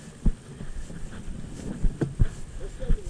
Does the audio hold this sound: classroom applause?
no